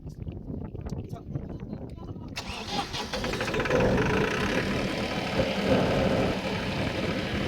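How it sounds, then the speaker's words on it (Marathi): A diesel generator set cranks and catches a couple of seconds in, then settles into a steady, loud mechanical drone that continues to the end, with voices faintly audible early on. "नंतर एक 60 लिटर डिझेल टाकून डीजे सेट चालू करून टाकला."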